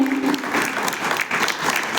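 An audience at a Shivratri programme in Paschim Vihar, Delhi, claps steadily in a continuous, moderately loud round of applause.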